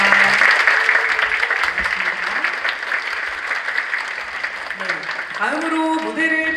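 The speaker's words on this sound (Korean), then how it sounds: "다시 한번 멋진 무대 보여주신 우리 에게 박수 부탁드립니다." Audience applause at a multicultural choir competition, a dense sustained clapping close and loud, fading toward the end as a voice begins speaking.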